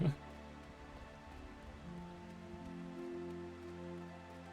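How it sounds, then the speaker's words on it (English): Steady patter of rain falling in Final Fantasy XIV, a faint, even wash with a low hum beneath it, while a person talks quietly over it. "Oh, the rain continues, of course it does."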